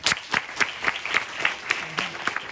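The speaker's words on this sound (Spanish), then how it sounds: "Un gran aplauso." Audience applause greeting a speaker at a TED-style public talk, a steady burst of clapping from a crowd, close and fairly loud.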